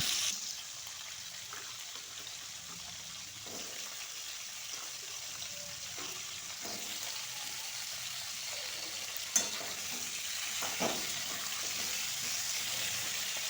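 Potatoes fry in a pan for a vegetable dish with broccoli, giving a steady soft sizzle with occasional faint stirring scrapes and one sharper clink, fairly quiet and with no talking.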